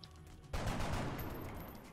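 A single loud burst of gunfire from XCOM: Enemy Unknown erupts after a quiet half second, then rings on with a sustained noisy tail.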